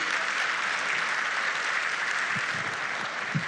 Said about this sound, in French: Et on applaudit très fort pour cette photo